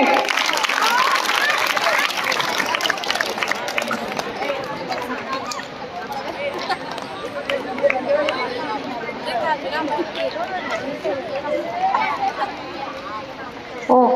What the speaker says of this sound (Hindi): ताली बजाएंगे तमाम बच्चे